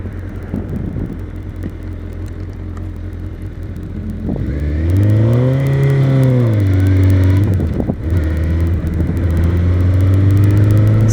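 A stock 2006 Suzuki GSX-R 1000 K6 sport motorcycle idles with a steady throb, then is revved hard twice, the engine note sweeping up and falling back before settling into a loud, close, sustained roar.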